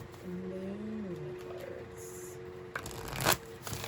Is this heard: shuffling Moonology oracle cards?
yes